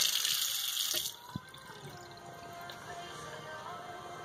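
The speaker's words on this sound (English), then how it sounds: "Alright, so turn the water valves back on. Hot water." Hot water gushes loudly from a Delta faucet after its supply valves are reopened, a steady rush for about a second before it abruptly drops to a quieter, lingering trickle and drip.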